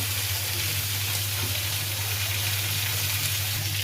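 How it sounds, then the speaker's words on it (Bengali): Spice paste for a katla fish curry sizzles steadily in hot oil in a pan, a dense continuous frying hiss close by with a low hum beneath and no talking. "মশলাটা কষিয়ে নিচ্ছি"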